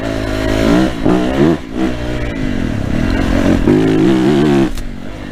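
Yamaha 450 YZF dirt bike engine running loud and close, revving up and down in repeated uneven bursts with some clattering underneath.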